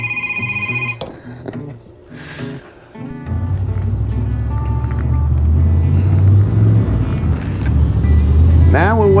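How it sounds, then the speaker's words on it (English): Steady engine rumble of road traffic rolling past grows louder and holds close by, with someone talking over it throughout. "Now we'll wait on all the traffic to go by"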